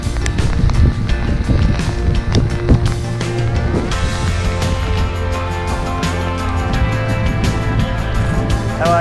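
Loud, roaring wind from a storm buffets the microphone aboard a sailing boat, with rattling, flapping and clanking noises throughout, no voices heard.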